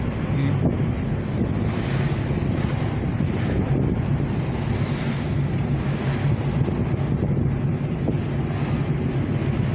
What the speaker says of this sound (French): Il y a toujours du vent.